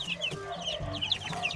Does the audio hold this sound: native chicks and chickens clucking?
yes